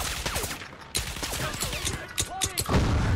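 Gunfire in the Crysis Remastered video game comes as rapid, dense shots mixed with voices talking over the action.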